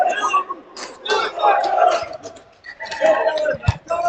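A crowd of people bark like dogs in rhythmic bursts at an MSU versus GVSU game, loud and echoing, imitating barking in a large indoor space.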